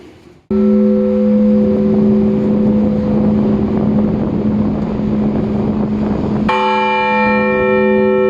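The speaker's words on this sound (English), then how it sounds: "let us enjoy his bell ringing" A loud Siberian cathedral bell tolls with a sustained ringing hum, then a second bright strike rings out near the end with shimmering overtones, heard up close amid wind noise.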